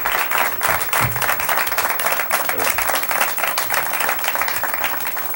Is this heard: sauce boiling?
no